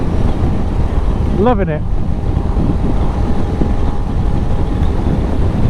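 Steady, loud wind roar buffeting the rider on a Royal Enfield Super Meteor 650 cruiser motorcycle at speed, a constant rushing blast throughout, with a brief spoken remark from the rider early on.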